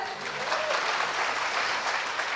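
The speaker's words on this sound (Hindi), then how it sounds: "ताली बजे इस पर।" Audience applause at a televised Hindi political discussion welcoming a guest from Bhabhua, Bihar; dense, steady clapping fills the whole short stretch at even loudness, with a faint voice underneath.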